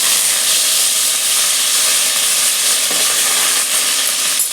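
Curry leaves crackle in hot oil at the start of cooking kadhi, a loud, steady, close-up sizzle and hiss that stays dense and unbroken throughout.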